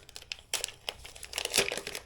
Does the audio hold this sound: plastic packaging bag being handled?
yes